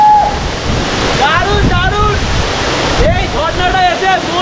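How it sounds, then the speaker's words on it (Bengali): A monsoon-swollen waterfall near Pelling, Sikkim, roars close by as a loud, steady rushing wash mixed with gusting wind, while people talk over it. "ঝর্ণাটা একদম কাছে যেতে পারছি না"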